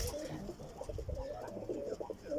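Pigeons in a loft of high-flying birds coo in low, rolling, repeated bursts at close range, with a voice talking faintly in the background.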